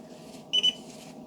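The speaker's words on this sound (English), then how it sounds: "immediately we've set off an alarm" An air quality monitor's alarm, set off by alcohol, gives two quick high-pitched beeps in close succession over a low, steady background hum.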